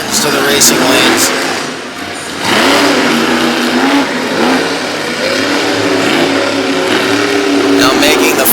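Monster truck engine racing around a dirt track at a Brookville, Pennsylvania event, revving loudly and steadily with rising and falling pitch, crowd and commentary voices mixed underneath.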